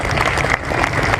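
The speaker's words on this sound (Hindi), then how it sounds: "उन बच्चों को हम सबों के तरफ से एक जोरदार ताली होना चाहिए" Audience clapping for children who performed at a school annual day and prize night, a dense, steady burst of applause that holds at an even level without fading.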